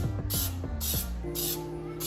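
Baking spray hissing from an aerosol can into a cake pan before flouring, several short bursts in an uneven rhythm with clicking nozzle sounds between them, close and clear.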